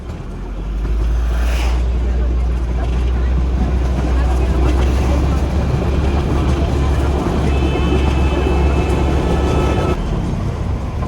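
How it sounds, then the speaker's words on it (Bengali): The Darjeeling Himalayan toy train pulls into Sukna station on the Siliguri–Darjeeling run with a steady low rumble and clatter of carriages, while a voice talks over the noise. "আমাদের টয় ট্রেন এখন ঢুকেছে শুকনাতে"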